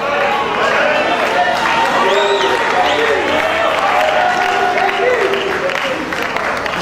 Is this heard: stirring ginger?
no